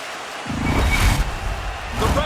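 A hockey arena crowd roars after a fight in NHL 23, a loud swelling cheer with a low rumbling rise, a brief dip, then another surge near the end.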